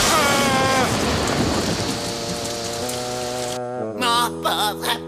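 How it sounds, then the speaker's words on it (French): Heavy rain in an animated cartoon, a loud dense downpour hissing steadily, then cutting out abruptly partway through as tonal music continues with brief noisy bursts. "il pleut des hallebardes"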